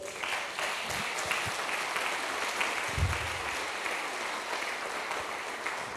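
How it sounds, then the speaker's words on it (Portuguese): Church congregation applauding during a Sunday sermon, a soft, steady wash of many hands clapping with a few louder thumps, distant and faint, no voices over it. "E vamos aplaudir Jesus"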